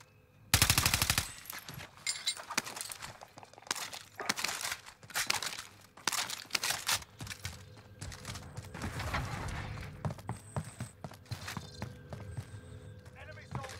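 Gunfire rattles in a shooter game played with a Stoner 63 class setup, opening with a sharp automatic burst followed by scattered shots and quieter bursts, while players talk over it.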